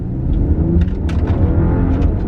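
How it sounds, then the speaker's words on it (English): A 2011-2016 BMW F10 535i with the N55 engine and JB4 tune accelerates at full throttle, a loud, close, deep engine rumble with wind and road roar swelling over two seconds. "Let me go ahead and floor it real quick."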